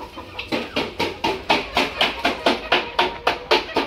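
Backyard hens feeding on scattered grass give a regular series of short clucks, about three per second, close and fairly loud, with no other sounds competing.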